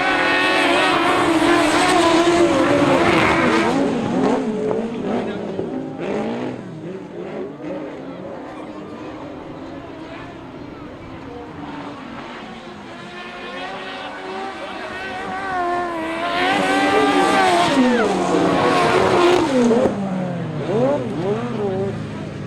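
Sidecar speedway outfits race their final lap at Highbridge in a 2005 British championship round, engines roaring and revving loudly, rising and falling as they pass, with a commentator's voice over the din.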